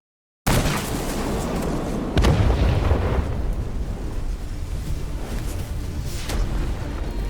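A huge explosion in a dark cave bursts out as a fiery blast, a sudden deep boom followed by a long rumbling roar that swells again before slowly trailing off.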